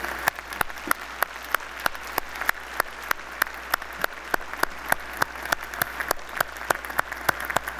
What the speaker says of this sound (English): Let's all graduates stand and give a round of applause to the family and friends who have helped you to this point